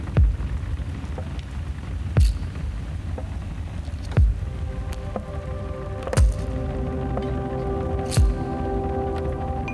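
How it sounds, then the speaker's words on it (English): Heavy rain drums on a rooftop and angled windows, a dense continuous patter with sharp, louder drips or knocks striking roughly every two seconds, heard close with no voices. "it is raining a lot and I'm right underneath the rooftop and I have angled windows"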